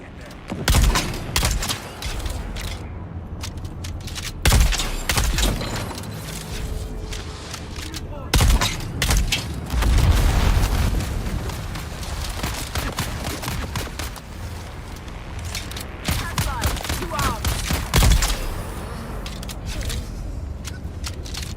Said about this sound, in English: Use this shotgun.